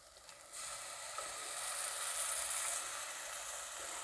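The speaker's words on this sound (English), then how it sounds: "let's add in our natural yogurt" Natural yogurt hitting a hot pan while cooking chicken biryani, a steady hissing sizzle that swells after a brief start and holds evenly, with no talking.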